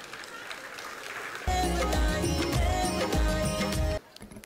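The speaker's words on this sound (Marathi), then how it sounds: "आपण परत एकदा टाळ्या वाजूया" Audience applause at a public felicitation and birthday event for actor Sayaji Shinde, steady broadband clapping that swells louder midway beneath music with deep drum thumps, then drops back to quieter crowd noise.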